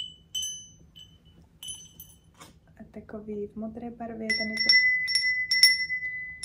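Japanese wind chimes ring out in a few separate bright, clear strikes with lingering tones, at the start and again near the end, while a person speaks briefly in between.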